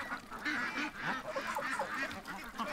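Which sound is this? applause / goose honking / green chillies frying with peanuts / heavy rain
goose honking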